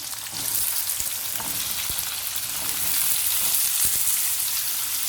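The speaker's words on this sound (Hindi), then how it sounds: "अब इसमें डालेंगे हम आलू, जो कि हमने धो के रखे हैं" Washed potatoes drop into hot oil with browned garlic, setting off a loud, steady sizzle of frying with faint stirring scrapes running throughout.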